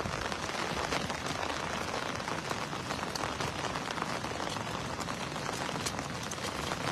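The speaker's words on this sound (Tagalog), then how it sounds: "Malakas yung ulan dito" Heavy rain pouring steadily during outdoor tilapia fishing, a dense continuous patter of drops hitting surfaces, even and unbroken throughout.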